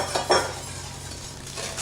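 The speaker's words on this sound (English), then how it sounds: "you want to make sure that you're constantly whisking this, and not vigorously" A whisk scrapes and stirs milk and flour in a pot on the stove, producing a few light metallic clinks and soft swishing strokes, close and fairly quiet.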